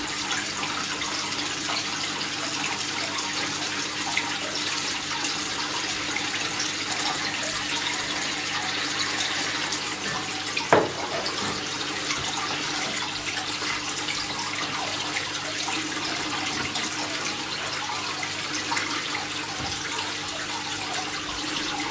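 Tap water runs steadily into a bucket during an aquarium water change, a continuous even splashing rush that stays close and unbroken, with one brief knock partway through.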